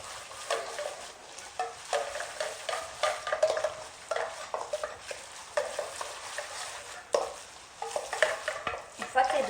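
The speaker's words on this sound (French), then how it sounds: "je vais mélanger les 2 farces en fait dans un saladier avant de laisser refroidir" Two seafood fillings for mini pastillas are mixed in a salad bowl, giving a continuous close, fairly quiet wet stirring and scraping with frequent soft clicks of the utensil against the bowl, and nobody talks.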